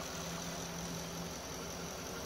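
A 2011 Ford F-150 with the 5.0L Coyote V8, stock exhaust and stock intake, idles in a steady, even low drone with a constant hum and no revving.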